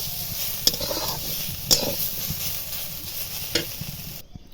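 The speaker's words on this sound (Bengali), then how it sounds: "খুব ভালো করে ভাজা হয়ে গেছে, এবার নামিয়ে নেব।" Drumstick flowers and potato fry in a pan, a close steady sizzle broken by a few sharp stirring scrapes, then cut off abruptly at the end.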